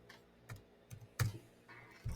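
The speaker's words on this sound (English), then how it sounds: "I am just typing in words to know" A few soft, scattered key taps on a computer keyboard, quiet and irregular, with no talking.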